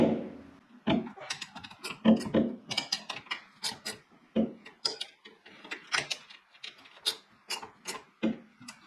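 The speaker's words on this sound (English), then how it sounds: "(9/16) ratcheting wrench. Give them a snug" A 9/16 ratcheting wrench snugs bolts on a rear-end gear assembly, giving bursts of close, sharp ratchet clicks in uneven runs separated by short pauses.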